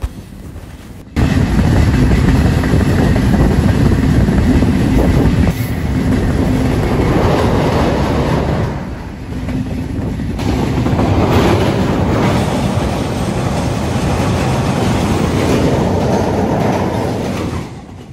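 Dhumketu Express train on the Dhaka to Rajshahi run, heard from onboard at speed: a loud, steady rumble and rattle of wheels on rails with rhythmic clatter, continuous for the whole stretch with small shifts in intensity.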